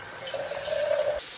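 A short pour of water runs into a pot of tinola for about a second, a steady splashing stream over kitchen background noise.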